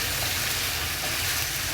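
Chicken frying slowly in a pan gives a continuous, even sizzle with a low rumbling undertone, close and steady for a moment, with no voices.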